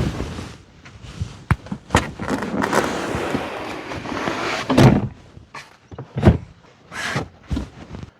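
Rear seats in a Nissan Armada are folded back upright, producing a series of plastic clicks, latches and heavy thunks with some rustling shuffling in between, close and fairly loud.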